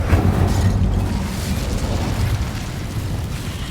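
The Incendio fire spell cast in Hogwarts Legacy gives a loud, steady fiery roar with a burst at the start, rumbling continuously for a few seconds.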